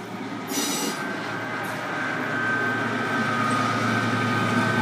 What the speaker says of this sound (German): das ist eine Dies-Lok